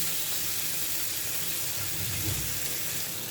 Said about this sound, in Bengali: মাছটা টমেটো কষানো হয়ে গেছে, এখন জল দিয়ে দিচ্ছি।